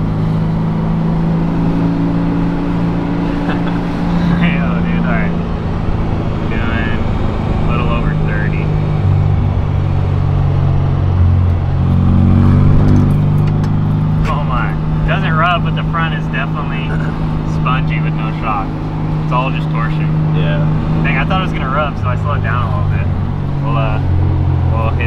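A Baja Bug driving with a steady engine drone and road rumble heard from inside the car, the engine note rising and falling slightly, while someone talks over it throughout.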